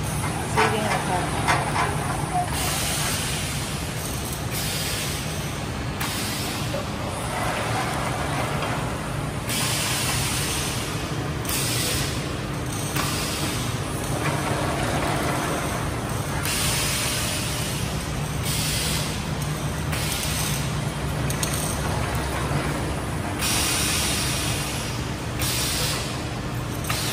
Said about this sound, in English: Here's a motor and the blower.